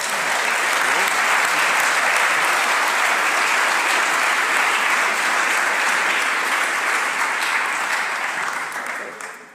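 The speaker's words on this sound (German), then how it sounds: "in dem Sinne noch einen Applaus" Sustained audience applause at the close of a panel discussion on public procurement law, steady and dense for several seconds before tapering off at the end.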